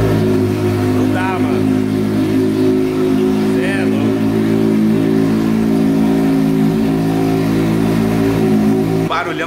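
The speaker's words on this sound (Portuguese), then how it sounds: "Olha o ronco dessa moto, vou dar uma ligadinha aqui pra vocês entenderem" A Yamaha XJ6 motorcycle engine idles loudly with a steady, throaty rumble close by, a voice briefly heard over it.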